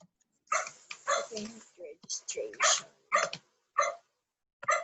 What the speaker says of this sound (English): I hear some dogs barking.